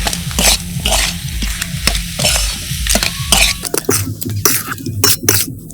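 Spiced potato filling for tomato chops is stirred and dried out in a frying pan, with repeated loud spatula scrapes and knocks over a soft sizzle, close and uneven in rhythm.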